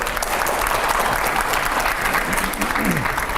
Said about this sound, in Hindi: जोरदार तालियां हो पहले